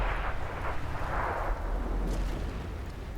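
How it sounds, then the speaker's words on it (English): A tank in World of Tanks fires a high explosive round, heard as a muffled booming blast with a rumbling tail within continuous low game noise, fairly distant and not very loud. "As you can see, I shoot a high explosive round for my standard ammo."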